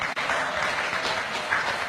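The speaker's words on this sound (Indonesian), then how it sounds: "tepuk tangan dulu buat istri saya nih" Applause from a gathered audience for a man's wife, a dense steady wash of many hands clapping for about two seconds, fairly loud and without speech.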